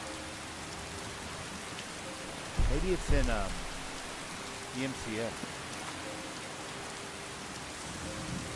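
Steady interior rain ambience from the video game Skyrim, a constant soft hiss of rain with a brief low rumble partway through, while a person talks quietly over it.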